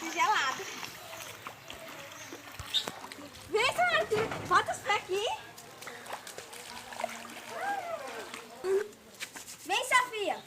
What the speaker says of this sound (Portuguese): E a enxurrada ainda está descendo.